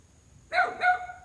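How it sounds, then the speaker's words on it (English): A dog barks twice in quick succession at an outdoor airgun shooting range, two short sharp woofs at moderate distance over quiet background hum. "we got the dog making a fuss too"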